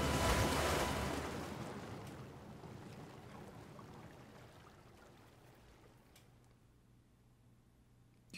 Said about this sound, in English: We'll be making water landing